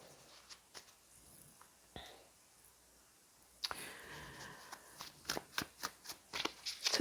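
Oracle-style love note cards shuffled and handled, with scattered soft taps at first, then a faster run of crisp riffling clicks and snaps building near the end, close and quiet.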